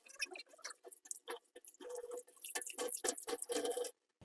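Water drains through the holes of a kitchen strainer holding coriander leaves, a close series of irregular trickling drips and splashes patters on and off before stopping abruptly.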